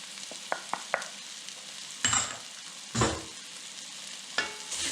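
Cumin, smoked paprika and aji sizzle in a frying pan, with a soft hiss broken by a few light utensil taps and several louder stirring scrapes spread across the moment.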